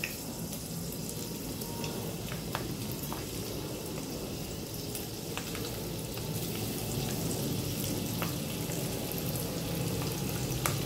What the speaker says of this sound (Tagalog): mainit na yung mantika natin at pwede na tayong maglagay ng lasing na hipon